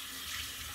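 Tap water runs steadily into a sink as a beauty blender is washed with gentle lavender foaming hand soap, a soft, even hiss close by with no talking.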